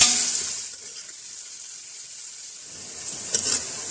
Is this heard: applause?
no